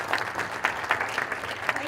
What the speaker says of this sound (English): And a round of applause for Donna for our inauguration.